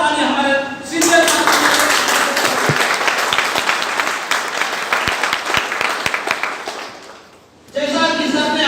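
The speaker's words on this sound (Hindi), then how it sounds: "तो एक जोरदार ताली हमारे सीनियर" Loud audience applause at a community program on women's empowerment, a burst of many hands clapping that swells in, holds for several seconds with a few sharper claps, then fades as speech resumes.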